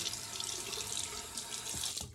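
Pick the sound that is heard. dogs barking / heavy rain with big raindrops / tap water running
tap water running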